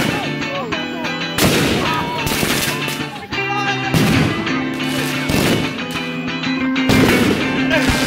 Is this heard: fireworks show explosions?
yes